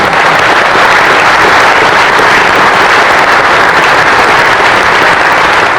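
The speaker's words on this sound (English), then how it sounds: "I think Tom deserves a round of applause" Loud, dense applause from an audience, continuous and unbroken from start to finish with no voices over it.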